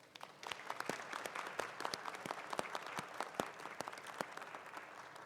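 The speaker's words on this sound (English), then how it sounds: "Ladies and gentlemen, let's give our graduates a round of applause." Audience members at the 2021 UDC commencement applaud the graduates, a continuous crowd clapping with distinct individual claps popping out. It is fairly distant and modest in level, and holds steady for several seconds.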